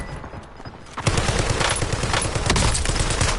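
Rapid automatic gunfire from the Warzone battle royale game, a dense continuous burst of shots up close that starts abruptly after a quiet second and keeps hammering to the end.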